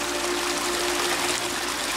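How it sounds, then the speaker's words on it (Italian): A small waterfall on a hike at the Pirincanes falls sends water trickling steadily, a continuous close hiss of running water with no voices. "ci apriamo sopra la prima cascatella"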